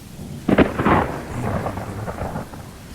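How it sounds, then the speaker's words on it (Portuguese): A violent thunderstorm with very heavy rain and strong wind sweeping a city: a sharp, close thunder crack breaks out over a steady roar of downpour that keeps rumbling and hissing afterward. "Chuva bem forte,"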